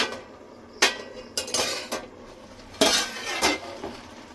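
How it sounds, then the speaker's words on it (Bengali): A lid lifted off a cooking pot of simmering lentil dal, several close metallic clanks and clinks spaced over a few seconds, with no one talking. "ঢাকনা খুলে দেখে নেব।"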